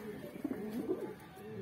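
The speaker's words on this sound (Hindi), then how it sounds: "23 कबूतर हैं, 23 के 23 पुरानी नस्लों के सुपर क्वालिटी के कबूतर हैं" Saharanpuri, Jhabra and Aabi breed pigeons give a few quiet, low coos close by, faint against a soft steady background.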